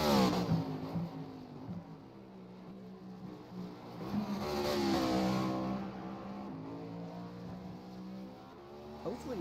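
Race cars accelerate through a lap at Oulton Park circuit, engines rising and falling in pitch as they rev and pass, with a steady mid-level drone throughout and a person talking over it.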